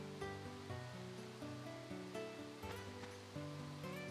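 A waterfall in the video game Dark Cloud 2, in the rain, gives a steady rushing wash of water under prominent melodic game music with repeated note changes and no speech.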